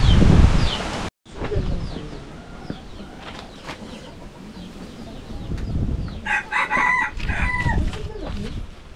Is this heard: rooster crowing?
yes